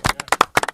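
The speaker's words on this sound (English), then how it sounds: "Elijah, can we give you some claps?" A small group claps briefly for Elijah, a quick burst of about a dozen sharp, close hand claps in under a second.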